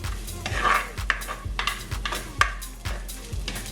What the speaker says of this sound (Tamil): இந்த கருவா போட்ட பிறகு ஒரு 30 செகண்ட்ஸ் இதை வதக்கி எடுப்போம்.